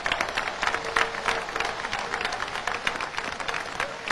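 A crowd at a 1 January 2004 Haitian independence speech claps in a busy, uneven patter that stays fairly steady and close throughout the short stretch.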